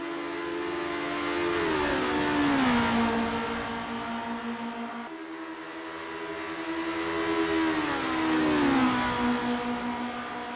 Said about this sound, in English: The roaring engines are echoing Jorg U's battle cry.